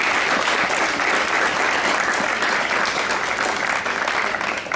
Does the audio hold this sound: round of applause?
yes